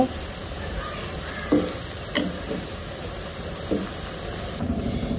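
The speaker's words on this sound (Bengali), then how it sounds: "সবগুলো পিঠা ব্রাউন কালার করে ভেজে তুলে নেব" Litchi pitha, a coconut-filled rice cake, fries in hot oil until brown, giving a continuous close sizzle broken by a few clinks and scrapes as the pieces are stirred and turned.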